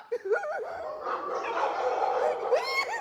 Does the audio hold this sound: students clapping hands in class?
no